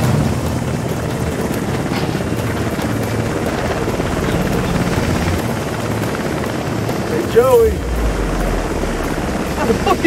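A helicopter in the video game House of Ashes gives a steady, loud rotor and engine drone throughout, with a windy rumble and voices beneath it.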